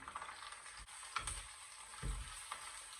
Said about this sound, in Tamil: இப்போ நான் இருக்க வச்சிருக்கிற ராலை வந்து இதுக்கு போட போகிறேன் பார்த்தீங்கன்னு சொன்னால் இந்த ராலை இப்படி போட்டு மிக்ஸ் பண்ணி பண்ணிக்கொள்ளுவோம்